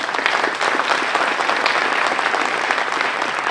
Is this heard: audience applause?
yes